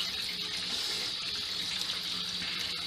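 Cold groundwater runs steadily from a tap as fresh homemade butter is rinsed under it, a close, continuous hissing splash with no one speaking.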